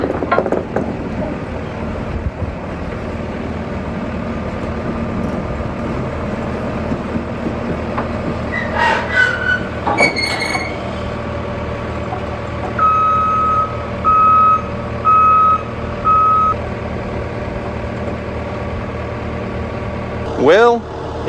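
A skid steer loader drives slowly onto a trailer with its engine rumbling steadily and close. Reversing beeps sound in a regular series partway through.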